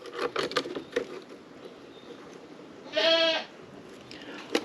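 A goat bleats once, a short wavering cry from a few paces off, following some scattered tapping and knocking sounds.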